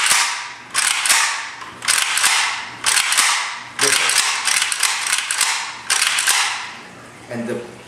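An AK-47 WASR 10/63 rifle has its action worked repeatedly, giving a series of about eight sharp metallic racks and clacks in a steady rhythm, close and loud, with a voice faintly underneath.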